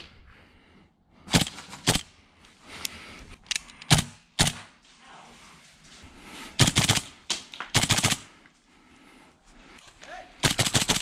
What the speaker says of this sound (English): Nice shots, Henry.